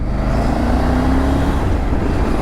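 Continuous road traffic on a highway near a toll plaza, a loud, steady low rumble of passing cars and trucks with a brief rising engine tone partway through.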